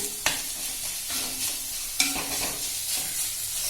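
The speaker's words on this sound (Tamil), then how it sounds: "இந்த மாதிரி உடைச்சு விட்டு நம்ம வதக்கிக்கணும்" Crumbled snake gourd usili is stirred and sautéed in a pan, giving a steady sizzle broken by a few sharp scrapes of the spoon against the metal.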